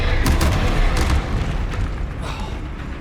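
Incendio fire spell cast in the Hogwarts Legacy video game on PS5, a loud booming whoosh of flame with dense low rumble, several bursts in the first second and a sustained roar that slowly fades.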